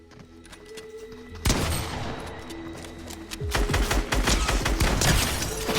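Gunfire in the video game Fortnite, including sniper rifle shots, bursts loudly in a dense, crackling volley that starts suddenly and intensifies toward the end, with no talking.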